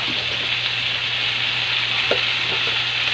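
Sweet potato and moringa pods frying in a pan, a steady, even sizzle with a faint low hum underneath and occasional soft stirring taps, close and continuous, no talking.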